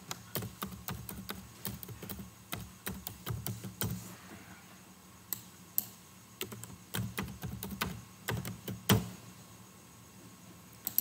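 Someone types on a computer keyboard at close range, an uneven run of crisp key clicks in quick bursts with short pauses, fairly quiet and with no talking.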